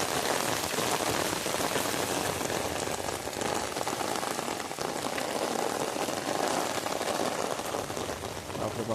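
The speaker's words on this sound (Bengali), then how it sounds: "বাপরে বাপ, মারাত্মক বৃষ্টি," Heavy rain pours down during a sudden afternoon downpour, a loud, constant roar of drops hitting surfaces that holds steady throughout with no voices.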